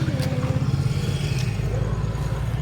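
A motorcycle engine runs close by with a steady low rumble and light clatter throughout, in a residential street during an aid visit.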